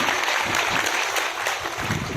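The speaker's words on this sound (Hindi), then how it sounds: "एक बार आपके मेहमानों के लिए तालियों से स्वागत है" A crowd at a religious gathering at a temple claps in a dense burst of applause, close and fairly loud, lasting about two seconds.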